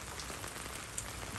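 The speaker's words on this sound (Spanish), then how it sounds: "¿Usted estaba disfrutando el sol y se vino esta lluvia?" Steady rain patters on a surface outdoors, a soft even hiss with occasional distinct drops.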